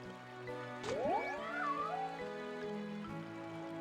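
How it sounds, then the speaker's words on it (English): A cat meows in the farming video game Cozy Farm, giving a couple of short rising calls up close over a steady soft background of game music and ambience. "Kitty, I have some fish for you"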